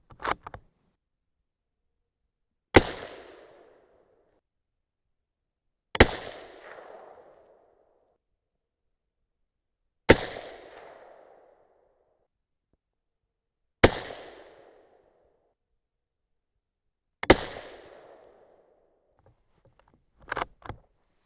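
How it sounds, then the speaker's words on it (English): Suppressed 6.5 Creedmoor rifle firing 140 gr Barnes Match Burner handloads over AA4350 and N550, five sharp shots spaced a few seconds apart, each with a short decaying tail, outdoors at a range. "Okay, 15 more shots to go here."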